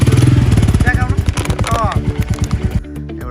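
A motorcycle engine running to grind ginger and garlic, a loud, throbbing, pulsing drone through most of the clip that drops to a lower idle near the end.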